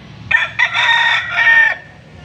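A young rooster crows at a market, one loud, close crow broken into a short opening burst and a long sustained call lasting about two seconds, with faint background murmur.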